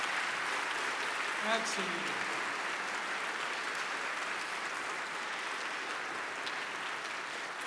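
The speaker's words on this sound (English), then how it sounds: "Once again, please, let's hear it for this choir." Audience applause for a Christmas choir at St. Matthew's, a steady wash of clapping lasting several seconds at moderate distance, with a voice briefly speaking over it.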